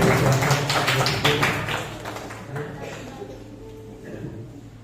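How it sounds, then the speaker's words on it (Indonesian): A church congregation at a joint Saturday worship service claps together, a loud burst of dense, rhythmic hand claps that gradually fades and thins out over several seconds. "Tepuk tangan buat Tuhan"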